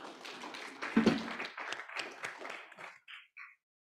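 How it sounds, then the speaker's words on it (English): An audience applauds at a conference plenary session on community-based conservation, a brief burst of clapping that thins out and stops abruptly near the end. "Another round of applause, please."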